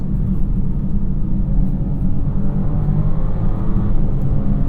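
Inside a 2024 BMW X5 xDrive50e plug-in hybrid, the turbocharged inline-six engine gives a steady, low, subdued rumble and whir throughout, with no voices over it.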